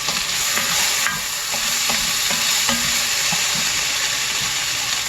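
Cabbage and sausage soup being stirred in a pot, a steady close scraping and sloshing with a continuous sizzle-like hiss underneath, punctuated by repeated utensil knocks.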